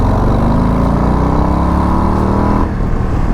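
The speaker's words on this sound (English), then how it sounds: "See, 2200 second gear pull." Harley-Davidson Low Rider ST motorcycle pulling hard in second gear from about 2200 rpm, its engine note climbing steadily and loudly before easing off near the end.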